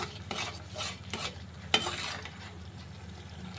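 Tempering of turmeric, asafoetida and chilli powder sizzling in hot oil in a pan for a moth bean and brinjal dish, with steady frying hiss and rhythmic spoon stirring and scraping, up close and without talk.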